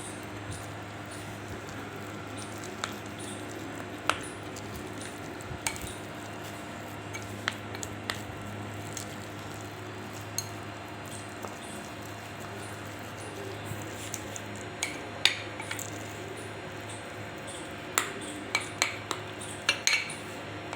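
Dough for dahi bhalla is mixed and kneaded with water in a bowl, producing soft squishing and scattered light clinks against the dish over a faint steady hum.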